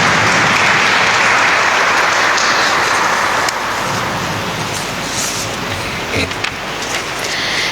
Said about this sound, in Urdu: ہم ایک بار پھر بھرپور تالیوں کے ساتھ سسٹر کو کہیں گے۔